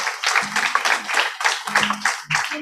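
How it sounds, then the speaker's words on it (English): An audience at a training programme gives sustained applause, a steady wash of clapping for a couple of seconds with a few louder bursts and some voices mixed in underneath. "I think he needs great applause from you guys"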